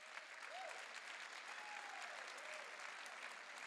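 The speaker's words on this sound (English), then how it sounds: "Can we give them a huge hand of applause?" A crowd at a mayoral inauguration applauds, with dense, even clapping from many hands throughout and faint voices rising underneath.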